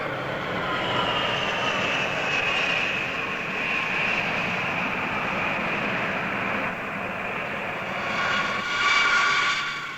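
American military aircraft flying over Laos produce a continuous broad engine drone, steady and loud throughout, swelling slightly near the end, with no voices.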